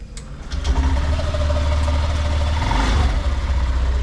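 A 2023 Honda Activa H-smart keyless scooter starts after a brief pause, then settles into a steady, close, low idle hum with no talking.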